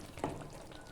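Split green chillies dropped into a fish curry frying in a pan for a doi mohashol dish give a brief close sizzle, a soft burst of frying that settles into a steady low crackle.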